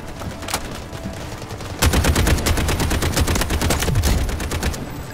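Rapid automatic gunfire in the Delta Force video game, first a few scattered shots, then a dense, loud sustained burst that continues to the end.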